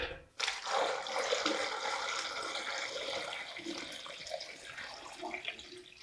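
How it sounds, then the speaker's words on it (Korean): Sauce pours into a container of garlic as a steady, close liquid stream that splashes and gurgles continuously, tapering slightly toward the end. "이제 소스를 부어주세요"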